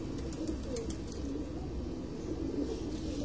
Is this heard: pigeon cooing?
yes